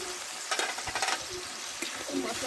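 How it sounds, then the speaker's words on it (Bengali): A spice masala of Kashmiri chilli and chilli powder, with a little water, sizzles as it is sautéed for an okra curry. A steady hiss carries a few bursts of stirring scrapes, with no talk. "এই মশলাটা ভালোভাবে একটু কষে নেব।"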